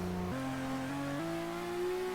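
A video game car engine in a dealership tycoon game revs after a spin-out, a steady droning tone that steps upward in pitch a few times, fairly quiet and alone.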